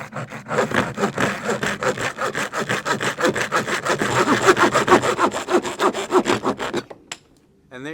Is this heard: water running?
no